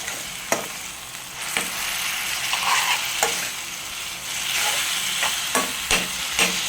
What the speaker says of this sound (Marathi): छान असं परतून घ्यायचं आहे, चांगलं शिजवायचं आपल्याला पावभाजी.